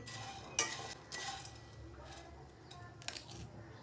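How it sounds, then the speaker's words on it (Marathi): Soft scraping and rustling of a spatula moving puffed rice around a hot pan over medium heat, in short repeated strokes, fairly quiet with no talking. "मीडियम गॅसवर सतत मिक्स करत आपल्याला हे मुरमुरे भाजून घ्यायचे आहे"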